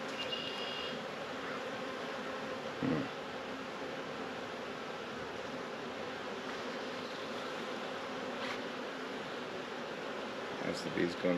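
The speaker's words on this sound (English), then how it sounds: "There's the bees going nuts over me." Dense, steady buzzing of many honeybees swarming close around a beekeeper, a continuous insect drone with occasional rustles and brief sharper sounds.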